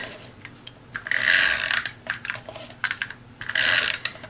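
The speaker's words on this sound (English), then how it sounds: "now I'm just going to cover this with some tape" Strips of tape pulled and pressed onto watercolor cardstock in a craft project, two bursts of loud, close ripping about two seconds apart with small crinkly handling clicks between them.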